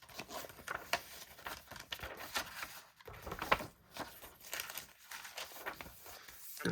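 Crinkly paper pages of a handmade glue book, including resume paper and vintage ledger sheets, being handled up close, with repeated soft rustles and crackles in irregular bursts.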